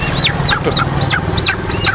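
Chickens call close by in a series of about six sharp, rising-and-falling squawks in quick, steady succession over a low background hum.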